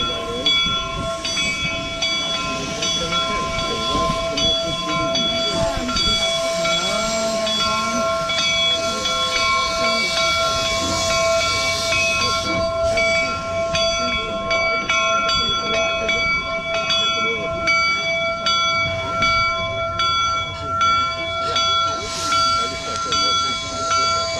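Steam locomotives slowly approach each other at the Golden Spike site in Utah, with steady steam hissing, sustained whistle-like ringing tones and rail clatter, alongside background crowd and voices.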